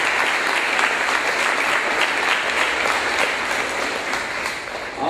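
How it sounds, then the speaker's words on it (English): Steady, dense audience applause at a DARE graduation ceremony at Red Oak, a full room clapping continuously at even volume, easing slightly near the end. "let's give these guys back here a big round of applause"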